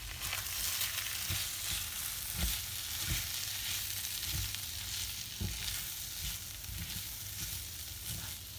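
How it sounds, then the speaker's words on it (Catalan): Rice frying in a pan for arròs negre, a steady close sizzle with soft scraping stirs breaking through every second or so, no voices. "Remenaré una miqueta."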